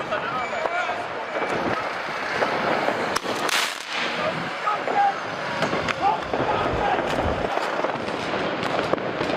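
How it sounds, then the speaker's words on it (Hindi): Scattered firework bangs and crackles in a busy street, with traffic noise and voices in the background. "बीच सड़क पर हो रही आतिशबाजी"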